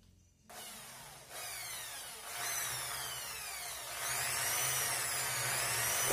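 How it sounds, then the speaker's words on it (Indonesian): Power drill boring a hole in a metal motorcycle fatbar handlebar, a whirring, rising grind that starts abruptly and grows steadily louder and harsher over several seconds, with no talking. "Karena mau saya bor"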